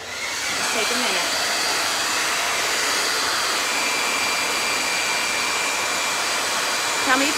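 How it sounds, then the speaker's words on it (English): A hair dryer blows steadily on a craft mold, a loud continuous whoosh that runs for several seconds with no break. "And then we have to hit it with the blow dryer"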